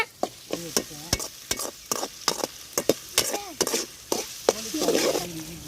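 Onion with ginger garlic paste sautés in a pan for a village-style chicken gravy, sharp repeated scraping strokes of a spoon over a continuous sizzle, close and irregular in rhythm.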